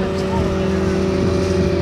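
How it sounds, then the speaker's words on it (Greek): Motorcycles doing a tire burnout at the 2010 Auto-Moto Show in Larisa: a loud, steady, close engine roar that holds without a break from start to finish, with a voice faintly underneath. "Για πάμε λίγο εδώ πέρα να κάψουμε τα λαστικά και τα μηχανάκια."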